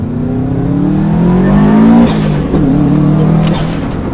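A Stage 3 Subaru WRX STI, tuned to about 420 hp, merges onto a motorway, its engine droning loud and steady inside the cabin, rising as it accelerates, easing briefly, then pulling again.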